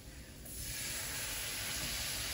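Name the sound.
flour sizzling as it is sautéed in a pan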